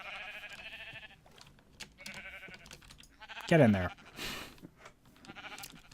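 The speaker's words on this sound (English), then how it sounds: "Maybe having a sheep pen next to water wasn't a good idea." A Minecraft sheep lets out a single clear bleat midway, set among light game sounds while someone talks briefly.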